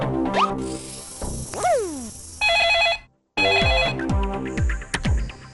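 A telephone rings in a Bengali cartoon comedy, heard as bright electronic ringing bursts amid springy boings and other sound effects, with a brief silent gap in the middle.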